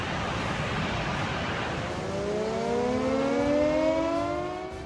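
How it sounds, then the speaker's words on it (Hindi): A flood warning siren wails during a cloudburst flood in Himachal, its tone rising slowly and holding steady over a broad rushing background, loud and sustained with no voices. "चेतावनी का ये सायरन जब तक बजता तब तक तो तबाही मच चुकी थी।"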